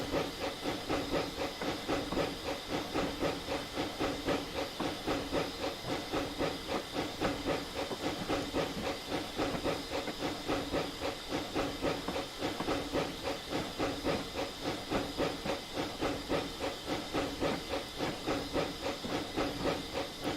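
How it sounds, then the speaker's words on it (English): Steam hisses steadily from a DSP&P Mogul steam locomotive in the Train Simulator video game on the Clear Creek line, a loud continuous rushing hiss with a faint rhythmic pulse throughout. "I think I've got it, but we're going to be losing a lot of steam."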